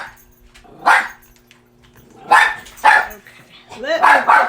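A pet dog barks in bursts indoors, several loud, separate barks close by, spaced unevenly, with a faint steady hum underneath and a voice speaking between them.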